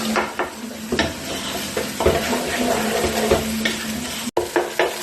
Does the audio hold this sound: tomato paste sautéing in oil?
yes